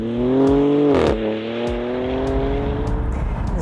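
A BMW inline six-cylinder engine revs loud and close, its tone climbing then easing back to a steady drone with brief sharp blips over the top.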